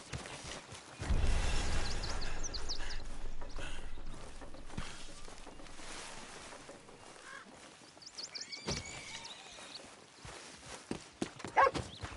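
Horse hooves in Red Dead Redemption 2 clip-clop in a fairly close, uneven trotting rhythm that eases off partway, with other faint game sounds around them.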